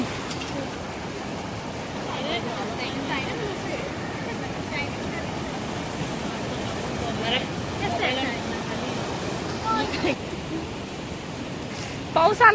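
Steady rain pours down as a constant dense hiss, with voices talking faintly underneath.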